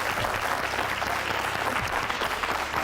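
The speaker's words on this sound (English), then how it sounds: "A round of applause." A studio audience at a televised leadership debate competition breaks into sustained, loud applause, a thick continuous wash of clapping throughout.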